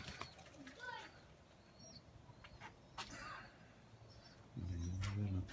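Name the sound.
pigeon flying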